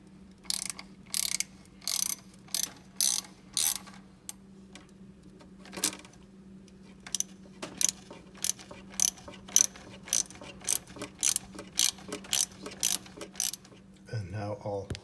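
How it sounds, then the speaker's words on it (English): A hand ratchet loosening screws on the idle speed motor of a DeLorean DMC-12, sharp rapid clicking bursts in a regular rhythm, close and alone, with a low steady hum beneath. "I'll remove this connection first, and then I'll loosen these screws."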